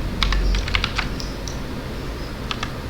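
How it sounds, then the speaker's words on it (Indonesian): Computer keyboard keys pressed for a Ctrl+R shortcut in Blender: a quick cluster of light, close clicks followed by a pause, then a couple more taps near the end, with no one talking. "Kita bisa pakai shortcut Ctrl R."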